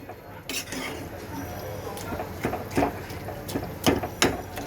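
A utensil scrapes and clinks against a pot while vegetable curry is stirred, with a string of sharp metallic knocks picking up toward the end over a quiet kitchen background.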